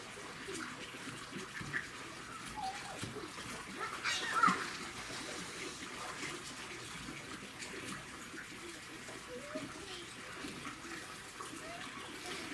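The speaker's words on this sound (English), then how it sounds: "We're filling up if you hear that in the background, we're filling up a pool for Chief" Water running steadily outdoors as a backyard pool is filled, a continuous hiss and trickle with faint birdsong and occasional distant voices in the background.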